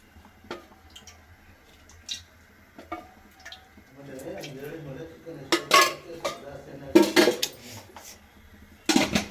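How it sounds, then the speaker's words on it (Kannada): Oil spooned into a pan on a home kitchen gas stove for chicken chops: scattered metal clinks and taps of spoon against pan, irregular and close, growing busier toward the end, with faint speech in the background. "ಇದಕ್ಕೀಗ 4 ಸ್ಪೂನ್ ಎಣ್ಣೆ ಹಾಕ್ಕೊತಿದ್ದೀನಿ"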